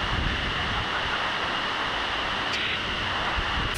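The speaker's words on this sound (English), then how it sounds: "you can slowly start hearing the waterfall." Steady, hissing roar of Langanan Waterfall near Ranau in Sabah, heard from the approaching jungle trail as a constant broadband wash with no breaks.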